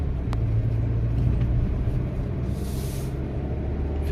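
Volvo XC40 T4 front-wheel-drive SUV accelerating on the road, heard from inside as a steady low engine and tyre rumble with a broad whoosh of wind, and a brief hiss passing partway through.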